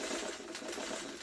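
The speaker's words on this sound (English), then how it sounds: "So let's get this under the sewing machine while..." A sewing machine stitches a quilt block in a steady, fast mechanical whir that runs quietly and evenly throughout, with no voices.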